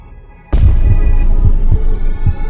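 A loud, rapid heartbeat thumps steadily over a low throbbing drone, the beats coming quickly and evenly.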